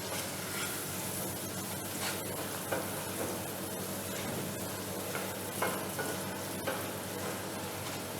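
Onions fry in a pan for soup, a steady close sizzle with occasional stirring scrapes and crackles that runs on its own without pause.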